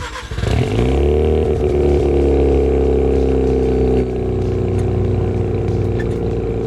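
A Mazda RX-7 with a rotary engine drives along, its loud steady engine drone rising at the start and then holding a constant pitch, settling slightly lower partway through, close and without talk.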